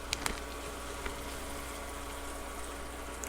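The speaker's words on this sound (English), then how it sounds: "We're just gonna put them in there to fry." Flour-coated pieces fry in a deep fryer with a faint, steady bubbling hiss and a few soft crackles and pops, heard alone and without talk.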